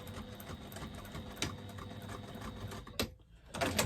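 A sewing machine back stitching a bag seam runs in a quiet, rapid mechanical patter with a few sharper clicks, pausing briefly near the end before starting up again.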